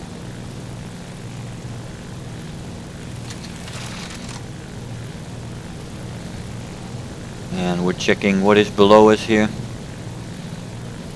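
Propeller engine of an A7M1 fighter plane in the video game War Thunder, a steady drone running throughout at moderate level, with someone talking over it near the end.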